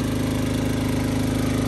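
An Elemax 1000DX portable generator runs under load with a steady, rapid engine pulse and droning hum, close and loud without pause, and no one talks.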